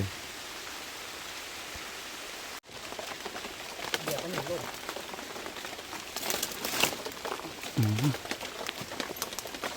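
Rain falls outdoors during a mushroom-picking outing, a steady hiss throughout with scattered rustles and footsteps, and voices speaking now and then.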